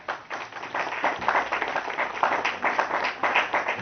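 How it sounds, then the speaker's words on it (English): Audience clapping at a TruthJuice gathering in Hull, a moderately loud, dense patter of many hands that swells and ebbs steadily throughout. "everybody give a maximum round of applause for Kate McCann."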